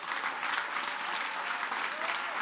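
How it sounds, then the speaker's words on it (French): Steady, dense applause from a crowd, loud and continuous throughout with no pauses. "Je vous demande qu'on applaudisse très très fort."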